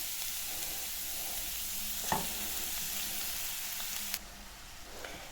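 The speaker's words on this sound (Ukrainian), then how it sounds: "І на нагріту сковородочку відправляю капусту" Shredded cabbage frying in odourless refined oil in a heated pan, giving a steady close crackling sizzle with a couple of sharp clicks of the pan or spatula and no voices.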